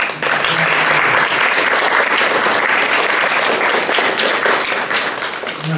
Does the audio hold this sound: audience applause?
yes